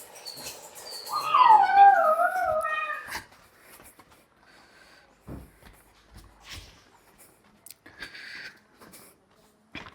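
Pet dogs at home let out one loud, drawn-out wavering howl lasting a few seconds. Faint whimpers, clicks and rustles follow in near quiet.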